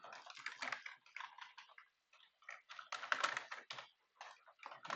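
Rapid clicking keystrokes on a computer keyboard come in quick bursts separated by short pauses, close and fairly quiet, with no voice.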